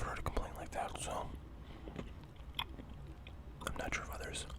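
Gum chewed close to the mic, with soft wet clicks and smacks scattered across the moment, mixed with quiet whispering and faint rustling.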